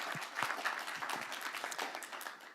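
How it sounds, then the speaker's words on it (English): Audience applause at the close of a data debate hosted by the Alan Turing Institute, steady clapping from a seated crowd lasting the whole moment, fairly soft and even. "and a round of applause to yourselves"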